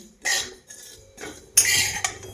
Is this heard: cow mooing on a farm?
no